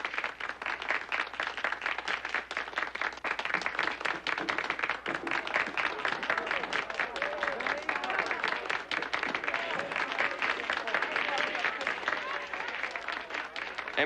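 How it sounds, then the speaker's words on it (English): A crowd in an old Western town claps and cheers for a legend being honored with a statue, a dense, steady wash of applause and crowd noise that runs unbroken from start to finish. "Stay here with the rest of the fools and cheer for a fake legend."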